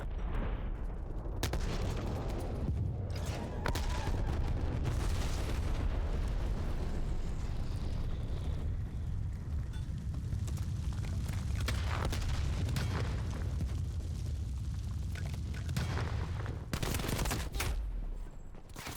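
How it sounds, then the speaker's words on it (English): A napalm strike in the Call of Duty Black Ops 3 video game sets off a long run of heavy booming explosions with rumbling roars and sharp blasts, loud and continuous, with no talking. "Enemy napalm strike incoming."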